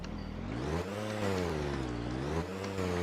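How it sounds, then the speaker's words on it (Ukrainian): A VAZ-1111 Oka car engine with a fault making strange sounds hums and whines continuously up close, its pitch rising and falling unevenly in a wavering, slightly labored drone. "щось трохи з двигуном, якісь дивні звуки"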